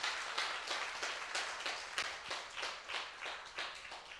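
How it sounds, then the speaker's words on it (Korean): Applause fills a church hall after a singing duet finishes a hymn, a steady wash of many hands clapping at moderate distance with no voices over it. "우리 사랑의 듀엣에게 큰 박수 다시 한번 부탁드립니다"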